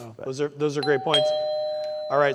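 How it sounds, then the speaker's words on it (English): A two-tone doorbell chime rings out clearly between spoken phrases during a meeting, its sustained ringing tone lingering for about a second under brief talk. "I love that doorbell chime."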